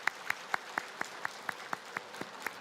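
A single person claps in a church setting during a Sunday worship service, producing eleven evenly spaced, sharp claps that are faint and fairly distant, with no voices over them.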